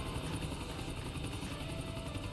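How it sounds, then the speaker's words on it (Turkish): A helicopter in GTA 4 flies with a continuous close rotor thump and engine whine, steady and loud throughout. "Şimdi helikopteri oraya nasıl kondurabiliriz?"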